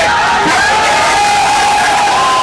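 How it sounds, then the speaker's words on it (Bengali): A dense crowd of BNP activists at a rally at Mirpur 10 roundabout in Dhaka chants and shouts slogans in unison, loud and sustained, with cheering voices blending into a continuous roar. "তারা বিভিন্ন স্লোগান দিতে থাকেন"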